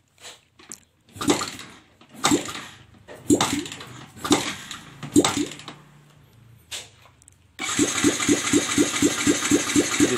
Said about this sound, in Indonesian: Motor jadi susah hidup, kita engkol.